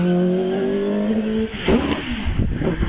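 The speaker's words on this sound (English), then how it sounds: "2-litre Vauxhall engine in that one." A hillclimb race car with a 2-litre Vauxhall engine holds a high-pitched engine note, then the pitch drops and it roars and crackles as it changes gear and pulls away, loud and close.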